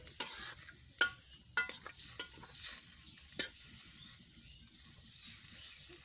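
A pan of potatoes and eggs, with a little water added, is stirred and fried, making several sharp spatula scrapes over a quiet, steady sizzle, close and without talk.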